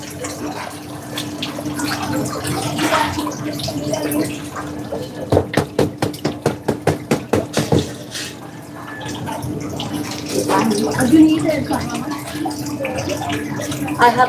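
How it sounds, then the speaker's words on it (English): Excess water drains off in a busy kitchen, a steady splashing pour with a burst of rapid gurgling glugs midway, loud and close, with faint talk in the background. "I'm gonna drain off the excess water"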